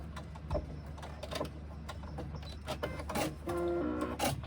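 A sewing machine makes a few short stitches back and forth to lock off a seam on a sling bag, with soft clicks and a brief whirring burst near the end.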